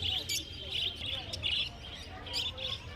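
Zebra finches in a flock at the Garia exotic bird market chirp in quick, bright bursts, a busy overlapping tweeting that continues throughout over a low market rumble.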